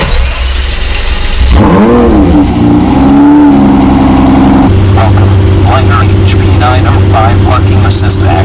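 A car engine starting with a cranking surge, then revving and settling into a steady idle hum, loud and close, with a voice speaking over it toward the end.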